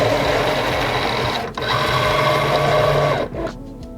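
A Singer Momento 24-inch fabric and craft cutting machine loads its cutting mat with a steady, loud mechanical whirring motor hum that briefly drops twice, close by and without speech.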